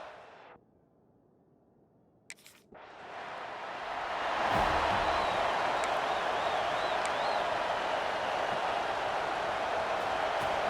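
Stadium crowd noise from a college football video game rises from near silence into a steady, loud roar of cheering that holds to the end, with no talk over it.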